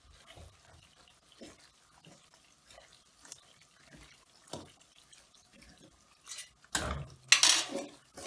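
Almonds, pistachios and fox nuts are stirred in a kadhai, with soft scattered clinks and scrapes of a spoon against the pan that grow busier and louder toward the end.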